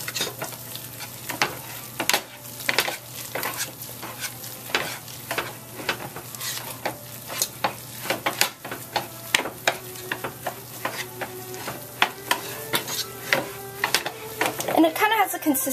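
A spoon stirs coconut milk into a thick batter for banh bot chien, a Vietnamese fried dough omelette, with steady scraping strokes and clicks close by, while a voice talks over parts of it.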